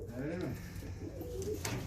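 Performance pigeons coo softly on a farm in Istanbul, a few low rolling calls heard quietly against faint background noise.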